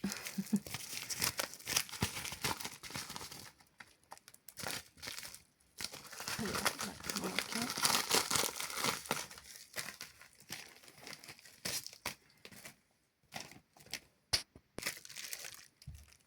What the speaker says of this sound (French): Du papier bulle